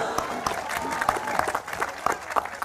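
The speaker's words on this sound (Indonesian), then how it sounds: "Tepuk tangannya mana? Yang kenceng dong." Steady applause from an audience fills the clip, dense and continuous at moderate volume, with some crowd noise mixed in.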